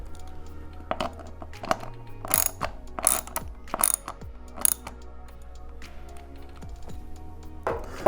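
A bolt being tightened with a hand ratchet while installing ESD arms, heard as close, loud bursts of rapid ratchet clicking in several short runs with brief pauses between.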